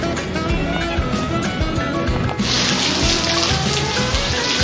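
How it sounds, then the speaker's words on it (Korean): Heavy rain pours steadily on a walker along the Portuguese Camino de Santiago in a November storm, a dense continuous wash that grows louder and brighter midway, with traffic-like rumble underneath. "이게 비가 오면 걷는 게 쉽지 않아."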